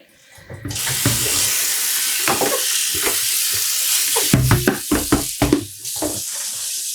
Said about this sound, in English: I'm going to pour out this water with all the foam.